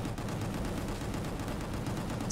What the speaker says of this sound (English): So much bullet shooting